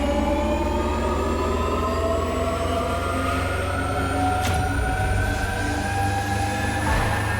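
A stock Rimac electric car in The Crew racing game, heard as a smooth rising electric whine with a low steady hum, accelerating continuously with no voices.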